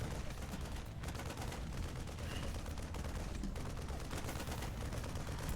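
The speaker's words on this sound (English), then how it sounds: "this Marine pumps out Gauss rifle damage from behind" StarCraft Marine firing its Gauss rifle in a tournament match, a dense, continuous rattle of rapid gunfire filling the whole stretch at a steady level amid busy game noise.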